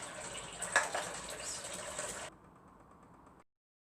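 Half a cup of water pours steadily into a container for about two seconds, then a quieter trickle continues briefly before stopping.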